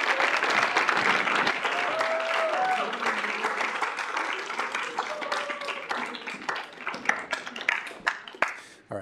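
A student senate audience gives a parliamentarian a loud, dense round of applause that gradually thins into scattered individual claps, with faint voices murmuring underneath.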